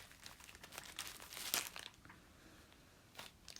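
A bag of dried rose petals is handled up close, giving soft crinkling and rustling that swells in brief bursts and then settles to a faint hiss.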